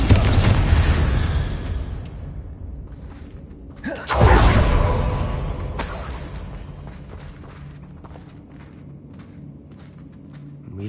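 A Confringo blasting spell from Hogwarts Legacy erupts in a loud, close explosion, an initial heavy boom that swells again with a second burst and then rumbles and creaks away into a fading tail of debris and ambience.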